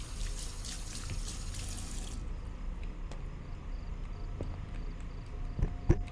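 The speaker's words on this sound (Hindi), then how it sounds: "अरे हाथ धो रही है, टॉयलेट नहीं कर रही।" A character washes hands at a sink in the horror game Fears to Fathom, with running tap water for the first couple of seconds and then quiet drips and a few small clunks, no voices.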